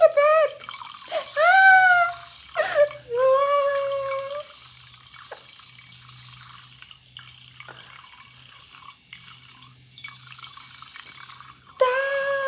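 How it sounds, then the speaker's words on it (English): Water is poured into a newly bought, unwashed clothing-haul item to test it, a soft, steady running trickle between stretches of someone talking at the start and end. "Should I pour water and show you guys?"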